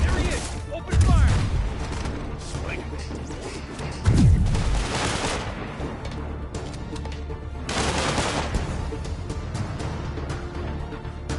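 Gunfire bursts and booms erupt in the Spider-Man PS4 video game, with two loud volleys followed by scattered shots and crashes over game ambience, as voices speak in between.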